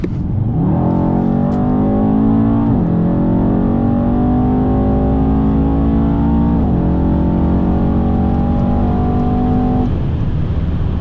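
A 2017 Mercedes-AMG E63s with a 612 hp engine pulling hard in race mode from 100 to 200 km/h, a loud continuous engine roar that rises steadily in pitch, dipping briefly at each upshift before climbing again.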